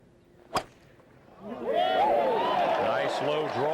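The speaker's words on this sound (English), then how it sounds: "Looks like Tiger has a 3 wood." A golf tee shot struck with a 3 wood at the 14th tee of the 1997 Masters final round: one sharp, crisp crack, followed after a pause by a rising crowd roar and cheers that hold to the end.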